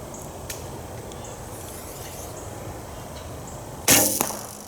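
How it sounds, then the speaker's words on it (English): A single sharp thwack of a longbow string releasing an arrow, close and brief, after a stretch of quiet outdoor background. "Doesn't make a lot of noise for a longbow"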